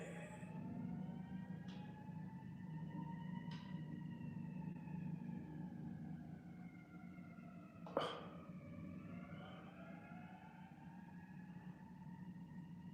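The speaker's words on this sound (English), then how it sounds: "I heard an ambulance out there" An ambulance siren wails outdoors at a distance, its tone sweeping slowly up and down over a steady low rumble, faint but continuous, with a sharp brief noise partway through.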